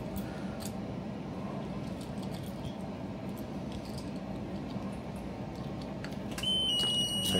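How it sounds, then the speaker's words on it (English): A boat's crew door alarm beeps steadily in short repeated tones through a constant engine-room hum. A louder, higher tone joins near the end. "I'm going to silence my crew door alarm."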